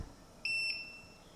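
Inkbird WiFi sous vide cooker sounding its cooking-finished alert: one steady electronic beep lasting about a quarter second, clear and close, over quiet room tone.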